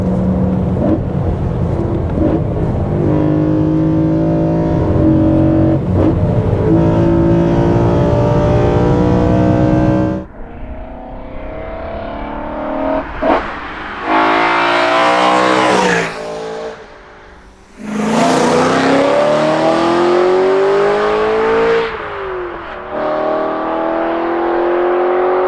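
A newly built engine in a BMW E92 M3 revs repeatedly below full throttle, loud and close, its note rising and falling in sweeps with brief drops to idle between pulls.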